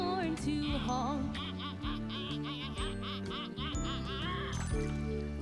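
Ducks in a children's song quack repeatedly over bouncy music, with bright honking calls scattered throughout the short stretch.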